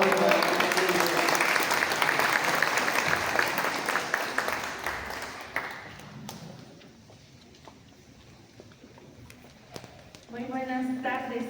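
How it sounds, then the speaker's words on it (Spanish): Applause rolls through the crowd at a ceremony honoring the centenary of Fidel Castro's birth in Mexico, a sustained dense clapping that slowly fades out, after which a voice begins speaking. "un fuerte aplauso"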